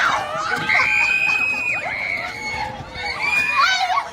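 Girls shout and shriek loudly and continuously outdoors in Tagaytay, overlapping high-pitched yells forming a rowdy group clamor.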